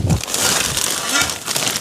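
A plastic vinyl sheet crinkles and rustles in a vegetable garden, a short burst of crisp, close crackling with a faint low thump at the start.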